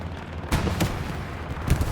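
An incoming rocket explodes near a capture point in the Hell Let Loose WWII shooter, among a few deep thuds and gunfire bursts over steady battlefield rumble.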